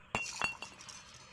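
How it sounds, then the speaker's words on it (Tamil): A glass bottle drops and clinks inside the Evil Nun horror video game, giving a few sharp, bright knocks close together followed by a faint ringing tail, with no talk over it. "கண்ணாடி பாட்டில் கீழே உழுவுதானே உடைய மாட்டேது"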